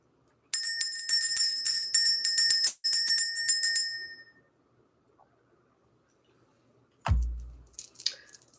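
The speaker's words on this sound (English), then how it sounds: "Let's go ahead and ring the bell." A small bell is rung in quick repeated strokes, bright and ringing for a few seconds before fading, followed by silence and then a muffled thump and some faint rustling.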